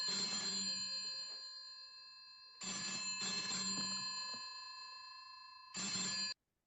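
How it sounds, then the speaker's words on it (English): A telephone rings in a 1960s James Bond film scene, From Russia with Love, sounding as three loud bursts of bright metallic bell ringing separated by short silences. "this phone rings"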